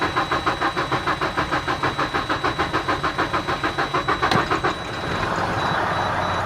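A vehicle engine cranks with a steady, rapid rhythmic chugging for several seconds after its fuel system was primed and flushed of water, then catches and settles into a loud, continuous running drone, close up and with no talk.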